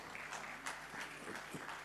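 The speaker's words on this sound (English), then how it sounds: "that's very nice of you that you are applauding all the time" Keynote audience applauding in a conference hall, steady moderate clapping throughout with a few sharper individual claps standing out.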